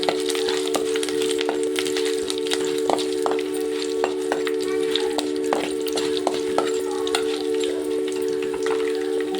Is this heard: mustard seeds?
yes